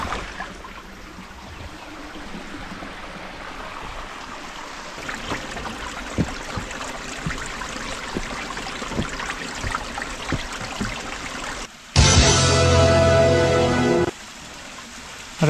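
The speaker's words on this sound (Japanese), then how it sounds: "これはね、有名な、白滝って言うんですよ" Shirataki waterfall on Mount Hokyo in winter with low flow, a soft continuous trickle and splash of water heard from nearby, with a brief louder rushing burst near the end.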